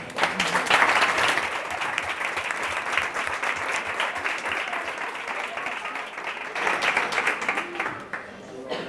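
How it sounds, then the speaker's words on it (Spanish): Sustained strong applause from a seated audience at a science talk on death past and present, dense clapping holding steady for most of the stretch before thinning out at the end. "os pido un fuerte aplauso para Silvia"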